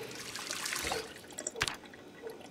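Drinking water in the video game Project Zomboid comes as a faint liquid trickle and gurgle, with a few small drips and a brief splash near the end.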